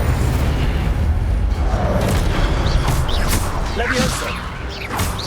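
An Incendio fire spell in Hogwarts Legacy, a loud, dense rumbling blast with crackling bursts and whooshes that gradually subsides, set against busy game combat noise.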